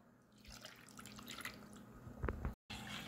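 Half a cup of water is poured over a cup of sugar in a pan to make caramel syrup for a condensed-milk pudding. Faint splashes and drips come and go across the clip, with no talk.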